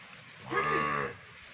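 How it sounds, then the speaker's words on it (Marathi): A Dangi cow, a native village breed travelling with a large herd, gives a single clear, full-throated moo lasting about half a second, close and loud against quiet surroundings. "तर ह्या पूर्ण गावठी गाई म्हणजे डांगी गाई."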